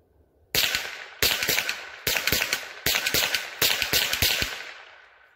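A Rossi RS22 .22 rifle fires 36-grain copper-plated hollow points in five sharp, loud shots spaced under a second apart, each crack followed by a brief ringing decay outdoors.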